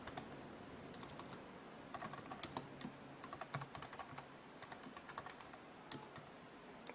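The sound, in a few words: typing a disk-util command on a computer keyboard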